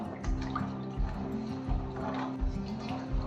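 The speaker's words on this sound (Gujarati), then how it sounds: "વટાણાને ધોઈ લઈએ." Green peas being washed in water for a Gujarati methi and pea curry, with soft dripping and sloshing liquid sounds and periodic low thumps of water moving in a vessel, close and steady.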